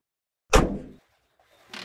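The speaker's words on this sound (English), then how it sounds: "It still sounds like a popcorn popper" A truck engine in the video game The Long Drive gives a single sharp, loud pop that decays quickly, followed after a short silence by a softer hissing burst.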